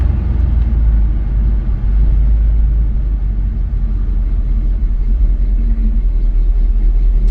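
A 1984 Chevy truck engine revving at higher RPM on the highway, a steady loud low rumble with road and tire noise continuing throughout, with no talk.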